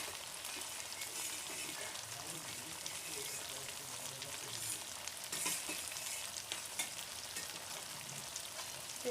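Chicken kosha fries and sizzles in a pan as it is stirred, making a faint, steady hiss with soft scraping, low and constant throughout.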